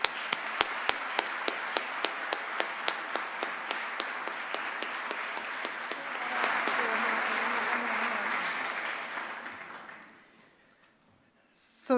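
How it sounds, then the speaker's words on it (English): A prize ceremony audience applauds Margot Wallström, the clapping strong and sustained for about ten seconds with a few sharp claps standing out early on, then dying away into quiet. "ask Margot Wallström to enter the stage and give her a warm applause"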